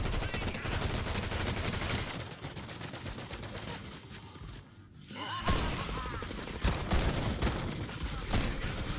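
Gunfire in Fortnite Chapter 5 Season 1, with dense, rapid automatic bursts and shots that go on almost without a break. The firing drops into a short lull around the middle, then comes back just as loud.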